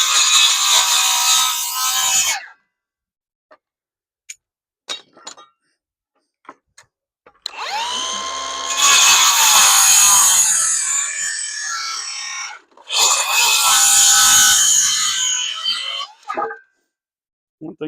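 A Milwaukee battery circular saw cuts fence wood in two loud whining bursts of several seconds each, separated by quiet gaps with a few small knocks and clicks.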